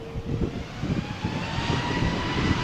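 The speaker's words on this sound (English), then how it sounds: "Now it's cleared for takeoff." A Ryanair airliner on its takeoff roll on runway 13 at Malaga Airport on a stormy morning, its engines giving a steady, loud roar that builds slightly over the seconds with no talk.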